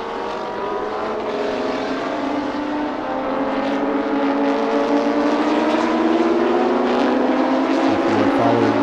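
Chevrolet Camaro GT3 race car at the Thailand Super Series, Chang International Circuit, its engine a loud, steady, close drone whose pitch climbs gradually and unbroken for nearly nine seconds, with no talking.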